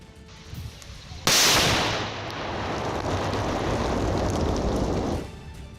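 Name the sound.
bomb disposal squad destroying a bomb found in Pulwama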